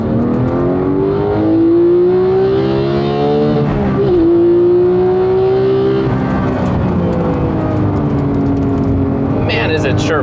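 A Porsche 991.2 911 GT3 engine climbs loudly through the revs under acceleration, drops briefly at a gear change and pulls again, steady and close, with a voice talking over parts of the drive.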